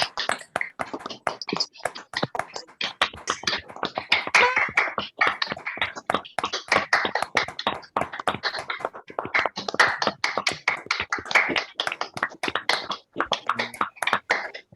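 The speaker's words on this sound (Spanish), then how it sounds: "brindemos un aplauso a nuestro querido amigo" Sustained applause from a standing audience at a tribute ceremony honouring Dr. Rodríguez Gallardo, dense continuous clapping from many hands with a steady rhythm and no voices.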